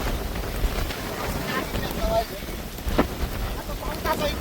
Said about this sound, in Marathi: पाऊस चाललाय पण आहे तिथं